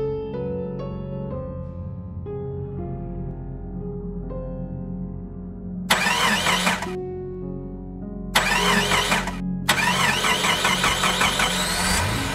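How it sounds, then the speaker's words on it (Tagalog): A car engine cranks and starts in three loud bursts over a steady low tonal drone, with no talking. "Nang saktong paandarin ko na sa sasakyan"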